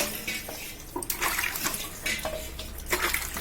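Running water splashes and trickles while something is rinsed and washed by hand, with intermittent bursts of pouring and light knocks, close and moderately loud outdoors on a rainy day.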